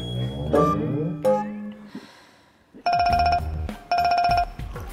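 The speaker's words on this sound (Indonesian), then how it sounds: "Ada telepon" A telephone rings in a home kitchen setting, two bursts of electronic ringing, loud and close, following a clattering sound and a short pause.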